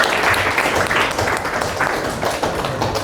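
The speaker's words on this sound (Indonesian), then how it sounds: "Tepuk tangan untuk Hamdan." Classroom applause for a student who has just answered a question, a steady, dense patter of many hands clapping nearby throughout, with faint voices underneath.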